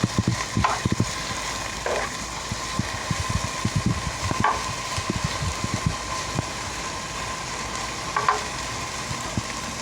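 Onions fry in a pan on the stove and get stirred; a soft steady sizzle runs throughout, broken by several scraping clatters of the utensil against the pan.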